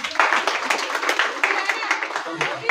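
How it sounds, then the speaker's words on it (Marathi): Audience clapping to welcome a student prizewinner at a school speech competition during a Shivaji Maharaj Jayanti event, a moderate group clapping in an uneven patter, with voices talking over it. "टाळ्या वाजवून स्वागत करा तिचं."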